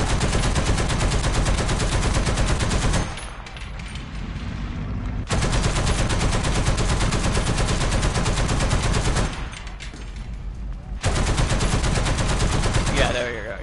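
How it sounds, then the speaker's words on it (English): An M2 machine gun mounted on a tank in a video game fires long, loud, continuous bursts, each lasting several seconds, with two short pauses between them. "I'm pretty sure the M2 can still go through, can it? Machine gun ready for action."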